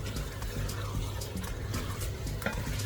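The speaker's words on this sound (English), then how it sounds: "I'm just gonna stir" Oxtail stew with mixed herbs being stirred in a pot, a steady close scraping and soft liquid churning that runs continuously with faint bubbling underneath.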